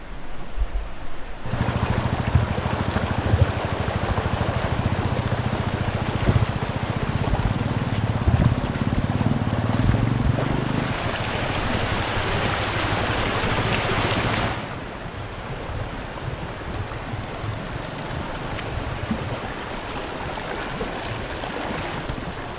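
Loud, steady rush of a deep, strong creek swollen by heavy rain fills the whole clip, a broad continuous roar with a low rumble in the first half that eases partway through.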